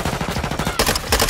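A gun fires in the video game Modern Warfare II, sending a rapid, loud automatic burst of evenly spaced shots, then a heavier cluster of louder reports, all close and without talk.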